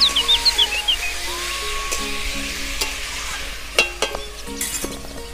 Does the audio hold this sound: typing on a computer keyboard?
no